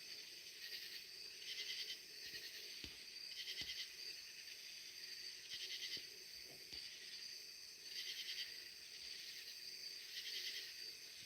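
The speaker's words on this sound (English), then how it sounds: "the bees are really loud tonight too" Insects chorus loudly outdoors at night, a dense, high shrill drone that swells and fades in regular pulses about every two seconds, with faint low knocks underneath and no talking.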